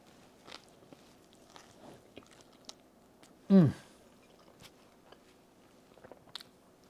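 Someone bites into a grilled avocado sandwich, with one loud close crunch in the middle and soft chewing and faint handling noises around it.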